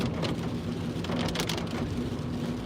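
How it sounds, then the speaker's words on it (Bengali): Heavy rain pours down in a dense, continuous roar, with a low steady hum underneath, as if heard from inside a vehicle. "প্রচণ্ড বৃষ্টি হচ্ছে প্রচণ্ড বৃষ্টি সামনে কিছুই দেখা যাচ্ছে না"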